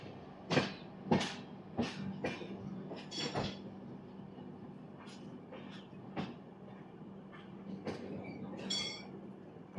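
The Puri–Howrah Shatabdi Express rolls along the rails, giving a steady rumble with repeated sharp clacks and thumps from the wheels over joints, some loud and close, others fainter.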